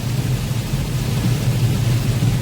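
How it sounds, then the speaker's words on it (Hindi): Heavy rain drums steadily on a car driving along a highway between Solapur and Hyderabad, a dense, even roar with deep low rumble and no voices. "बहुत ही ज़्यादा तेज़ है अभी बारिश।"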